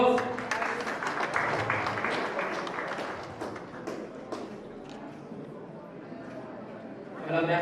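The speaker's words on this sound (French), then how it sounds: "On applaudit encore." An audience applauds at a journalism awards ceremony in Burundi, a mid-distance wash of clapping that swells, eases and rises again briefly at the end, with some chatter mixed in.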